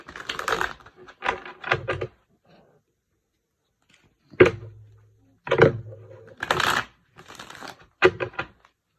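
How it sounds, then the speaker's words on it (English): Several short bursts of crisp tarot card riffling and flicking, close by, separated by brief pauses, with a few soft taps. "Do a nice shuffle for you guys."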